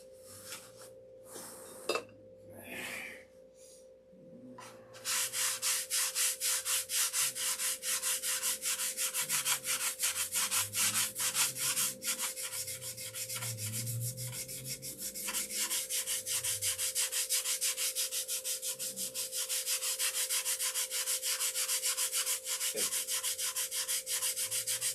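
A sanding block rubs back and forth over a wooden model airplane in fast, even strokes, a close, steady scratchy rasp that continues without pause after a few bumps and handling noises at the start.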